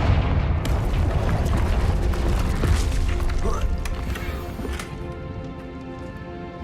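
Confringo blasting spell explosion in the video game Hogwarts Legacy, a loud booming blast with crackling debris and rumble that slowly fades, with a voice speaking over it.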